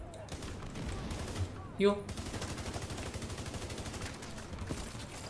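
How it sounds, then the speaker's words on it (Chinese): Sustained rapid machine-gun fire in the shooter game The Division 2, a dense continuous burst throughout, with a brief male exclamation over the gunfire. "太可怕了，这个机枪"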